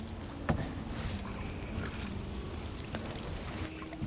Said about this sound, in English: You see how the J stroke is really coming in handy in keeping the canoe straight.